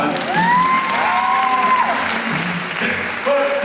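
A high school audience at a hypnosis show during a Blizzard Ball claps steadily in a hall, with some cheering and whistling mixed into the sustained applause.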